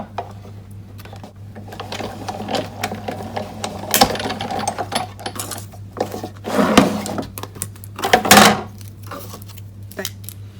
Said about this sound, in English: we're just going to die cut that 5 times